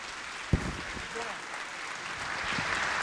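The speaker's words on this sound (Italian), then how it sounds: "un applauso" Audience at a New Year's concert in Salerno applauding to welcome a tenor, a steady wash of clapping heard throughout with a brief sharp knock near the start.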